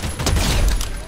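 A dense burst of rapid gunfire in the video game Fortnite crackles loudly throughout, a continuous fusillade with no pauses.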